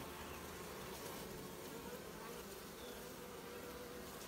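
Dense, steady buzzing of honeybees at an Apis mellifera hive kept like a cavity-nesting hive, a continuous close swarm drone filling the whole stretch with no talk.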